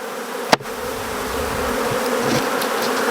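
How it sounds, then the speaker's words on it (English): Africanized honey bees swarm over an opened hive in a dense, steady buzz, with one sharp knock near the start before the droning hum carries on unbroken. "Lots of bees."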